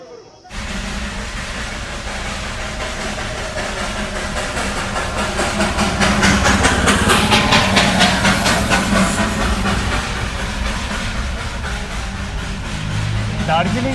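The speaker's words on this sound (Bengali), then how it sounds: "আর এটা ছিল হচ্ছে স্টিম ইঞ্জিন" Darjeeling toy train's steam locomotive, loud and close, with a continuous broad rush of steam hiss and rumbling rail noise that swells toward the middle and holds steady throughout.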